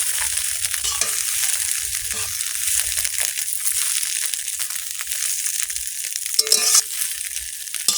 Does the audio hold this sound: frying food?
yes